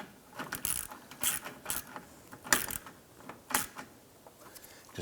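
Ratchet tightening a nut onto a stud during a 2005-2007 Ford Five Hundred radiator replacement, several quick bursts of clicking pawl ratcheting spaced across a few seconds, close and moderately loud.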